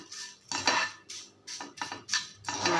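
Lentils dry-roasting without oil in a pan are stirred in repeated bursts, giving rhythmic scraping and dry rattling clatter of metal utensil against the pan, close and distinct with short pauses between strokes.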